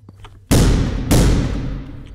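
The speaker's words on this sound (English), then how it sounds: "I think I'm just going to shotgun blast." Two loud, booming shotgun blasts from the video game The Final Station go off about half a second apart, each with a long decaying rumble.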